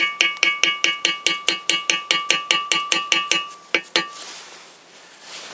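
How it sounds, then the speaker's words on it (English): A hammer taps a piston into a Toyota VVT-i engine cylinder with about sixteen quick, evenly spaced metallic clinks, close and crisp, ending in a faint hiss. "I take my hammer and I carefully"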